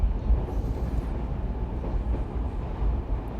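Train running on rails as background ambience in a tabletop role-playing game: a steady, loud low rumble with a continuous rolling texture and no distinct clacks, alone with no talk.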